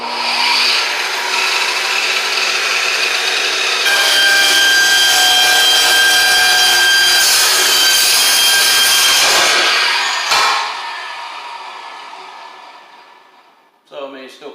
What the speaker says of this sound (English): I'm going to show you how it cuts on speed number 2, which is 2000 RPMs